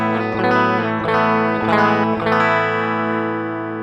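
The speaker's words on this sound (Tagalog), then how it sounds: "Ito yung bypass sound natin." Electric guitar played through an M-vave MK-300 multi-effects unit in bypass, a sustained strummed chord with several re-struck attacks ringing out under light distortion, alone and steady.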